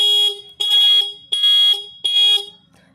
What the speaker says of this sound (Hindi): जिस तरह से इंडिकेटर आगे पीछे वर्क करता है उसी तरह से यहाँ पे आपका हॉर्न जो है आगे पीछे थोड़ा रुक